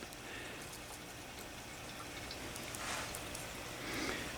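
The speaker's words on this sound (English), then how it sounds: "Water. Just water. Plain old water." Plain water poured over the roots of a young hydroponic plant, a close, continuous splashing trickle that swells slightly near the end.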